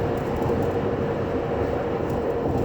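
BFGoodrich KO2 all-terrain tires rolling on a Ford Explorer: a steady, even road roar and low rumble heard from inside the vehicle, continuous with no speech.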